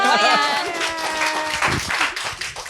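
Scattered hand clapping in a TV studio office gathering, uneven claps that come and go beneath people talking.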